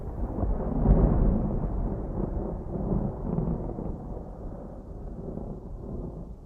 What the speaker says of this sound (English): The clouds in the distance are rumbling and getting closer.